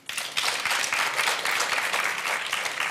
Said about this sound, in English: Clap if you think it's a cardiologist